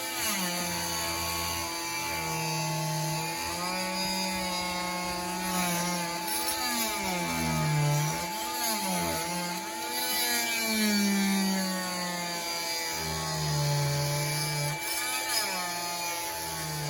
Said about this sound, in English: We cut around the dash, leaving only about an inch all the way around